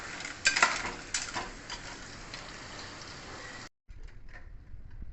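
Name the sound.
clams cooking in a pan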